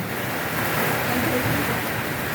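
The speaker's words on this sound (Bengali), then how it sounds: "একটু দেখেন শিলা বৃষ্টি হচ্ছে শিলও পড়তেছে বাতাসও আছে" Hail and rain fall during a Kalbaishakhi storm with strong wind, producing a dense, steady roar of broadband noise that holds at an even, loud level throughout without pause.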